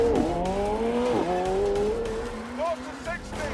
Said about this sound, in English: Left foot on brake. Push launch. Full throttle. Boost building.